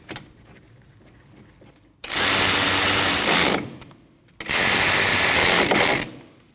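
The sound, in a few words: power tool tightening 14mm brake caliper bolts on Subaru Forester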